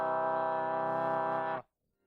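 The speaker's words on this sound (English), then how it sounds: "the 4th, 5th and 6th overtones give us just that, and together they sound like this" A sustained major chord built from the 4th, 5th and 6th overtones of a harmonic series, steady and smooth for about a second and a half before cutting off cleanly into silence.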